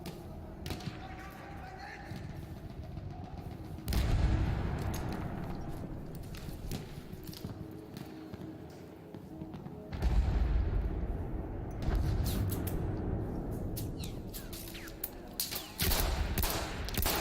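Gunfire rings out in the video game Battlefield 1, with repeated shots and explosive bursts over a steady rumbling battle din, while a player talks over it.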